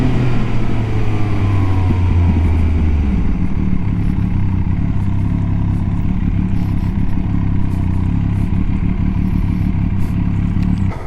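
A Benelli TNT 899 S 100th anniversary motorcycle engine idles, standing still, with a steady deep mechanical clatter that stays loud and close and settles after a brief early shift in pitch.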